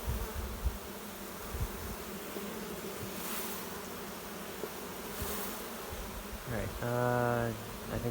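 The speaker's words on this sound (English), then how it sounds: "This is like overflowing with bees." Honeybees from an overflowing hive during queen rearing, a constant close buzzing drone throughout, with a brief voice near the end.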